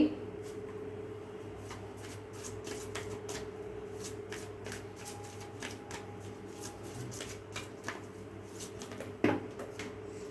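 Tarot cards being shuffled on a table, a soft, steady riffling and flicking of the deck close by, with a low background hum and a single louder tap near the end.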